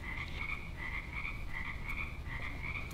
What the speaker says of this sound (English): I don't know if you guys can hear the frog behind me.